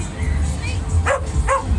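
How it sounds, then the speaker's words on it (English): A little dog at a Hatwells funfair in Witney gives two short, sharp barks close by, set against a constant funfair hum and crowd murmur. "we got a bark for the channel"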